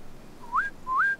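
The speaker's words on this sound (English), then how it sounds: "Two rising whistles for left." A farmer gives a sheepdog the command for left: two rising whistles, each sliding up in pitch and holding briefly, clear and fairly near, with no talk.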